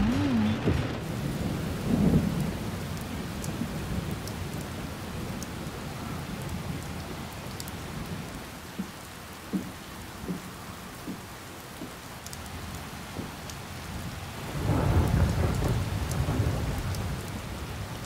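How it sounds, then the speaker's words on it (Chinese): Steady rain pours onto surfaces as thunder rumbles. A loud roll comes near the start and another swells toward the end, with no voices over the downpour. "下雨了。"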